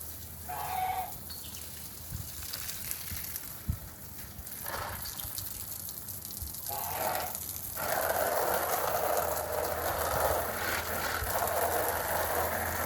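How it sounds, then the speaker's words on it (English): Water hosed over a deck where geese are kept, a steady gushing spray that grows louder and broader partway through, with geese honking and calling intermittently nearby. "Rinsing off the front part of the deck here."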